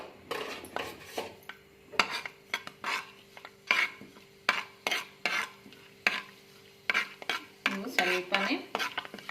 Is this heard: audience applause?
no